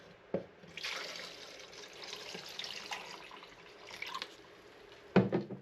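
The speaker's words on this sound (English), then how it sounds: "I'll pour in my fixer." Photographic fixer pours in a soft, steady stream into a film developing tank nearby, trickling for several seconds and ending with a couple of light clunks.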